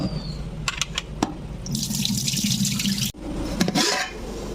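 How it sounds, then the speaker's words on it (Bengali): Water from soaked biryani rice being poured off into a kitchen sink: a few drips, then a steady close splashing pour that breaks off briefly and resumes, with no talk. "পানিটা আমি ফেলে দেবো"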